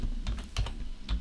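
Quick keystrokes on a computer keyboard, several close taps in an uneven rhythm, heard up close with no talking over them.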